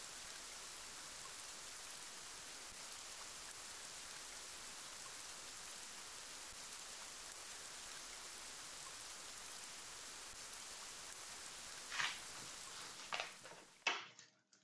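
Steady rain hisses softly and evenly at a boardwalk, with a few sharper taps and knocks near the end.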